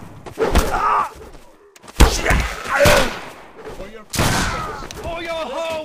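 Musket volleys in the video game BattleGrounds 2: several sharp booming gunfire bursts in quick succession, each a loud crack followed by a short rumbling tail, with shouting voices between and over the shots.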